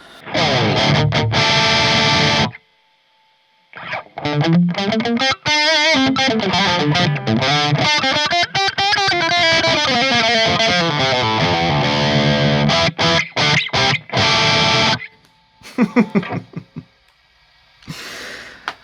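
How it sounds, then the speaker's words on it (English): Heavily distorted notes from a Glarry Burning Fire electric guitar ring out in bursts, some held and bending, with short silent gaps between phrases. "Let's throw some distortion on there and get some individual distorted tones."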